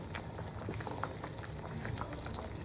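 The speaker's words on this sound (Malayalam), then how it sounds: "കുറച്ചും കൂടി തേങ്ങാപ്പാൽ ഒഴിക്കുക." Dal payasam with crushed coconut simmers quietly as coconut milk goes in, a faint, steady bubbling with soft liquid pops and no voices.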